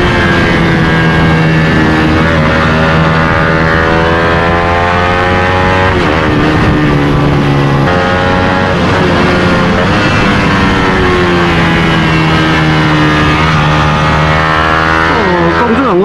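A modified Suzuki GSX-R150 motorcycle engine ridden hard through corners, a loud, continuous buzzing drone whose pitch rises and dips with the throttle, very close as from the rider's position, with some wind noise.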